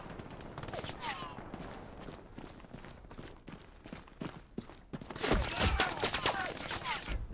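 Warning shots fired in Battlegrounds: scattered sharp gunshot cracks spread across the stretch, some quick bursts and footsteps between, ending with a louder, denser volley near the end.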